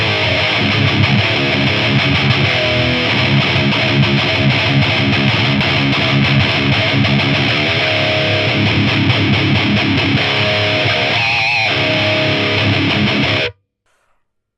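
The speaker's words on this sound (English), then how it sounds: "It's a Friedman BE100 with a tube screamer in front, with a bit of post EQ" An electric guitar runs through a Friedman BE100 amp with a tube screamer in front and post EQ, giving a loud, continuous, heavily driven tone for about thirteen seconds before it cuts off abruptly into silence.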